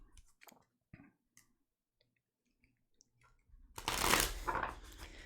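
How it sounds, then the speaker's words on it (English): Tarot cards shuffled by hand in a loud, dense riffling burst near the end, after a few sparse clicks and taps in near-silence. "Do a couple of shuffles."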